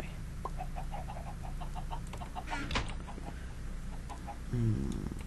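Chickens in Minecraft cluck in a run of short, evenly spaced clucks over a constant low background hum, with one brief sharp click partway through.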